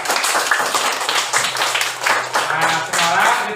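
A class claps for a student group, with dense, steady clapping and voices mixed in throughout.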